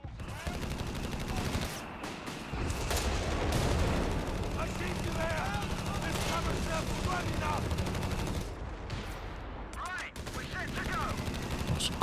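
Machine gun fire in the strategy game Company of Heroes 3 during a 2v2 match: rapid bursts of automatic gunfire mixed with distant explosions and battle noise, steady and dense, with someone talking over it.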